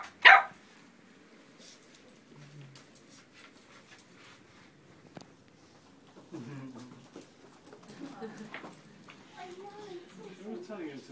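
Puppies at a training class, with a sharp bark at the start followed by faint whimpers and yips while people talk in the background.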